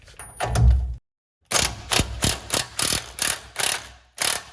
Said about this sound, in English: I've got a 13/16 socket, a deep socket, and I'm going to loosen up this nut first